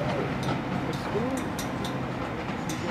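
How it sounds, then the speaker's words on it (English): A train runs during a Deltic diesel locomotive gathering at Bolton Street, Ramsbottom, producing a continuous nearby rumble with light clatter while people talk faintly in the background. "Image, you're going on that train."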